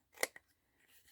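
Scissors trimming craft material close up: one crisp snip, then a smaller second cut, quiet and isolated against near silence.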